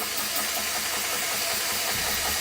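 A GX Pump CS2 high-pressure air compressor runs with a steady mechanical drone beneath a loud, broad hiss of air bleeding from its hose, close and unbroken with no speech.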